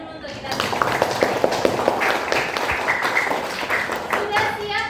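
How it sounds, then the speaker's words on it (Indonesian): Children in a classroom clap together, a dense patter of small hands filling the room, with a teacher's voice and kids' chatter mixed in over it. "tepuk tangan dulu untuk kita"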